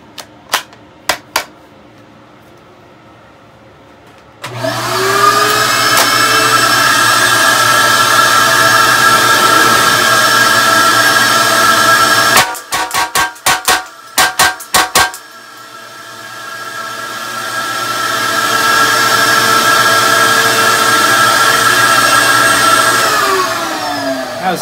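A Hi-Point 1095 carbine fitted with a RatRod empties a full magazine in a quick burst of sharp, closely spaced shots, heard over a loud, steady droning hum that runs through most of the clip.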